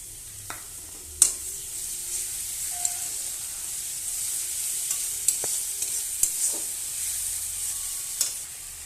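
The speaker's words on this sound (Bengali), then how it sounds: "এবার মশলাটাকে ভালোভাবে কষাতে হবে।" Ginger-garlic paste with salt, turmeric, chilli, coriander and cumin powders fries in a pan, giving a steady sizzle broken by scattered sharp spatters and the scrape of stirring, with no voices.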